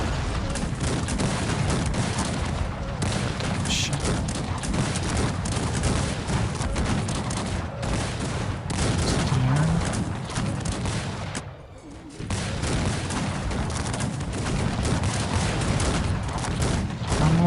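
A Cossacks 3 video game battle produces dense, continuous gunfire: massed musket volleys and booming shots crackle without pause, briefly dipping once before the barrage resumes at full loudness.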